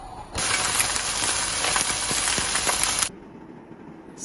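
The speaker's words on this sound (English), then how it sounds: "I use 1 spoon grapeseed oil to pan fry salmon first." Salmon pan frying in a spoonful of grapeseed oil gives a bright steady hiss that starts suddenly, holds with faint crackles, then drops away to quiet.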